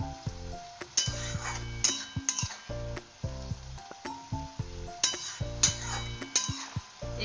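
Fenugreek greens and peas are stirred in a pan, a soft sizzle broken by rhythmic spatula strokes and scrapes, with a faint background hum.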